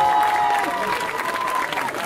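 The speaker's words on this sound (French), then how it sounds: "Encouragez-les, applaudissez encore le plus fort possible." Steady clapping from a crowd at a cosplay contest at the Yggdrasil festival fills the whole stretch, dense and moderately loud, with a faint tone drifting beneath.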